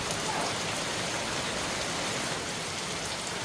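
Heavy rain pouring down steadily outdoors, a dense, constant hiss that is close and even throughout, with no voices.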